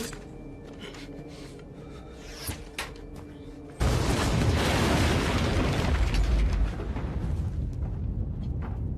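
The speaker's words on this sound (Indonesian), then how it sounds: "Takaju membawa Kenshin ke suatu tempat dan meledakkan dirinya sendiri" Explosion in a Rurouni Kenshin film scene where a man blows himself up: after a quieter stretch with scattered knocks, a sudden loud, broad blast erupts and rumbles on steadily to the end.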